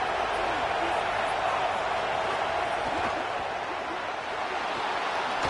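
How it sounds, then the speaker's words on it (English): A large football stadium crowd at a UCLA versus Michigan game roars as a dense, steady wash of noise, heard at a distance beneath a commentator's voice. "This crowd bringing the energy and noise early."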